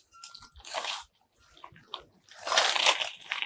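Water is poured onto a cloth to wet it, giving two separate splashing, sloshing bursts, a shorter one first and then a longer, louder pour, with quiet handling sounds in between.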